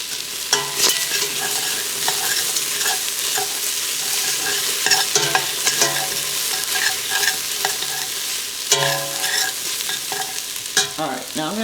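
A spoon stirs tomato paste into a pot of vegan okra soup, steady scraping and sloshing with a faint sizzle underneath, close and continuous with sharper clatters against the pot sides.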